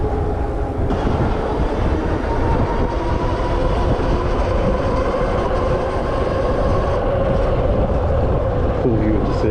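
A train rolls past during an e-bike group ride, its steady rumble and rail noise loud and continuous throughout with a faint voice underneath.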